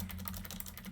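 Rapid keystrokes on a computer keyboard, a quick run of soft clicks typed steadily and close by, with no voices.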